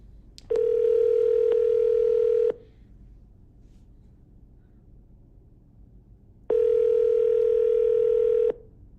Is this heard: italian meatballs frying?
no